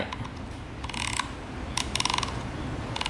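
Ratcheting clicks as a Thinkware F750 dash cam is rotated on its windshield mount, sharp plastic detents in short bursts over a steady low background hum.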